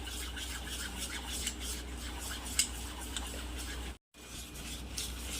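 A spoon scrapes and swirls through eggless sponge cake batter in a bowl after milk and Eno are added. The stirring is soft, continuous and close, with no talk.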